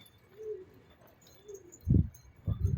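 A homing pigeon on a loft roof makes a few soft, fairly close coos, followed by two short low thumping bursts like wingbeats or landing.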